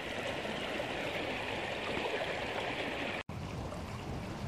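A creek flows steadily in a continuous, close rushing and babbling wash that stays even throughout, with no voices.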